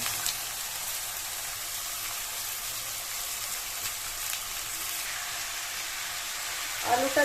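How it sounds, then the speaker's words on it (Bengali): Potatoes sizzle steadily in hot oil in a home kitchen while dal simmers nearby, a continuous broadband frying hiss across the whole stretch with a brief clatter near the end. "তেল গরম হয়ে গেছে আমি এখন আলুগুলো তেলের মধ্যে দিয়ে দিলাম"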